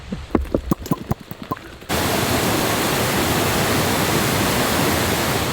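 A few sharp clicks and knocks give way to a sudden, loud, continuous roar of rushing mountain water in the German Alps, close and unbroken to the end.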